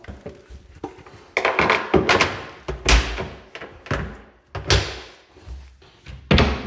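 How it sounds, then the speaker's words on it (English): Several wooden thunks and knocks, irregular and close, as cabinet doors are fitted and pressed into place, with light clatter between the heavier hits. "So now I'll just put the doors back on."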